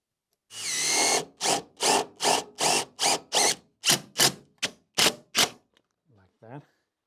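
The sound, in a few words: power drill driving a self-tapping screw into metal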